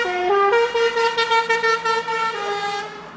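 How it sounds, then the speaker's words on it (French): A car horn honks in a quick run of short toots followed by a longer held blast, bright and close, with no voices over it. "Un joli klaxon"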